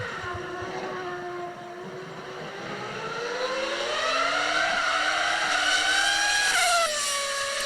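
Formula 1 race car engine revving high, a loud continuous whine that climbs steadily in pitch over several seconds, dips briefly near the end, then holds, with no voices.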